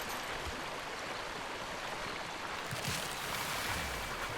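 A loud river rushes steadily in the Ark: Survival Ascended video game, a broad continuous watery roar and hiss with no break and no talking.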